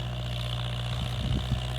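A tractor engine drones steadily close by on a field, a constant low mechanical hum with a few rougher bursts near the end.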